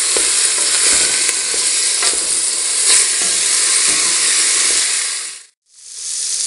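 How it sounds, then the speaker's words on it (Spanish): Chopped vegetables sauté in a pot for a white bean stew with ham and chorizo, giving a loud, close, steady sizzle and hiss with small stirring scrapes. The sizzle cuts out abruptly, then briefly returns. "En una olla sofreímos las verduras picaditas."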